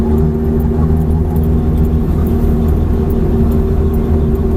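Car engine droning steadily as it drives on a race track toward the pit lane, a constant loud hum with a few steady tonal lines and no breaks.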